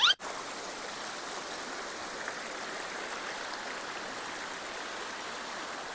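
Near-freezing mountain stream water at Khao Kho, Thailand flows in a constant, even rush, with a brief click at the very start and no speech.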